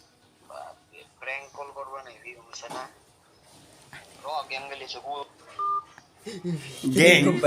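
Short telephone dialing tones sound during a speakerphone call, mostly buried under steady talking, with one clear tone standing out near the end.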